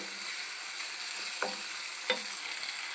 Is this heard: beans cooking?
yes